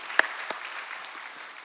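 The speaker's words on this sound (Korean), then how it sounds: "우리 하나님께 영광과 감사의 박수 올려드립니다" Congregation at a Korean church dawn prayer service applauding in praise, a soft, steady, distant wash of clapping with a couple of sharper claps near the start.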